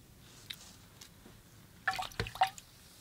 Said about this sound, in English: And then I rinse off my brush and I take off some of the water.